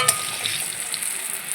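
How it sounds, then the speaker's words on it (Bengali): Long eggplants fry in oil in a pan, giving a soft, steady, close sizzle with no voices. "ভাজা চলছে।"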